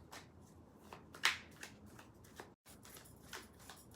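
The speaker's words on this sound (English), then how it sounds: "We don't have any cards yet. We're just shuffling." Playing cards being shuffled in a quiet room: soft riffling with one sharp, bright flutter burst, close but faint.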